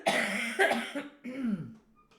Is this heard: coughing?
yes